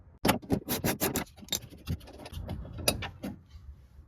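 A rear power window motor in a 2000 Toyota Camry whirs and grinds in short, irregular bursts with scraping as the glass is coaxed downward, close and fairly quiet.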